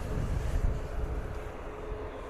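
An EasyJet A320neo airliner approaches through clouds near Bristol Airport, a low, steady, unseen rumble that is fairly loud throughout.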